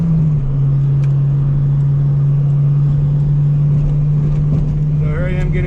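A 1999 Honda Civic Si with a B16A engine accelerating up a freeway on-ramp; a loud, steady engine drone from inside the cabin, rising slightly near the end.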